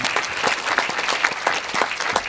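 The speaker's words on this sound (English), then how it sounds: "massive round of applause for giving us the opportunity of seeing this incredible film" An audience applauds steadily after a film screening at a documentary festival, a dense patter of clapping hands throughout, fairly close and loud.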